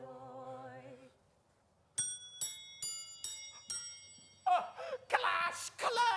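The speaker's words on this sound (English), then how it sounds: "Clash, clang, hammer, ding dong. The lustiest peals I ever heard." Stage bells pealing as a sound effect in an amateur drama club production of A Christmas Carol: a run of bright, separate clangs and dings after a sung passage, building into a louder, denser clash of overlapping peals near the end.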